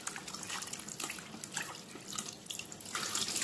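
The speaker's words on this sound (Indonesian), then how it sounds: "Ini ayamnya dicuci dulu ya," Tap water runs over raw chicken pieces being washed in a sink, a soft steady splashing and trickling stream with small irregular bursts, fairly quiet and with no voices.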